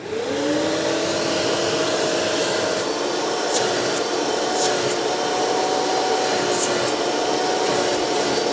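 Hoover Dimension Limited U5215-930 upright direct-air vacuum cleaner running steadily, a loud continuous whooshing airflow roar with a faint motor whine, close and alone without speech.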